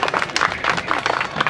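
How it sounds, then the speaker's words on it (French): Children applauding a classmate, a short burst of brisk, dense clapping from a small group nearby, fairly loud and even. "On peut l'applaudir."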